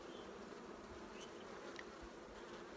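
Honey bees of a local breed, with a three-year-old queen, drone steadily at their hive in winter, a dense continuous buzz close up with a few individual bees whining past.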